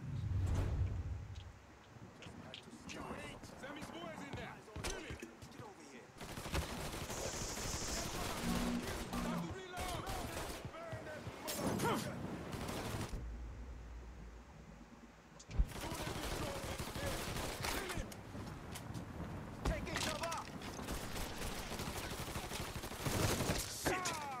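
Gunfire in the video game Mafia 3: repeated bursts and volleys of shots in rapid clusters, loud and close, broken by short lulls, with a voice shouting over parts of it.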